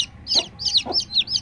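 Golden, striped chicks hatched from home eggs chirp in a rapid run of high, falling peeps beside a hen, close up, with soft lower clucking sounds breaking in twice.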